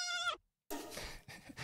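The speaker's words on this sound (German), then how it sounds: "dass ich einfach durch das Menü gehe und jedes Mal bitte genau das Schaf höre" A sheep bleats in a Palworld game menu, two short close bleats split by a clear pause, the second rougher and breaking up.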